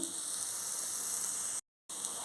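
Onions sizzling and frying in oil in a non-stick pan, a steady close hiss that drops out briefly before resuming.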